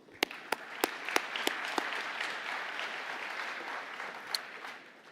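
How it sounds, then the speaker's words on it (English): An audience at a Saskatchewan municipal awards ceremony claps in a steady, fairly distant wash of applause, a few sharp nearby claps standing out early, sustained for about five seconds without talk. "how about one more round of applause, please?"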